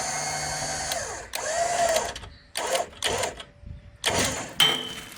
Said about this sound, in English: I'm gonna pull now with this Jeep winch and just see what she does.